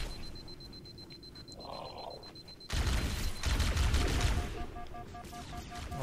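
Enemy gunfire in Halo CE Anniversary, fighting Flood creatures, breaks out suddenly after a quieter stretch and continues as loud, dense rattling bursts, with tones from the game behind it.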